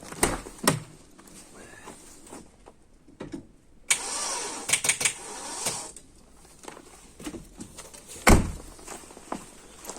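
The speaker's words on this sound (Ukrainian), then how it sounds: "Зараз я без мінуса ще раз покажу вам, що двигун не запускається" A car engine with the battery's negative terminal disconnected cranks over in several short whirring attempts without catching, separated by clunks and quiet pauses.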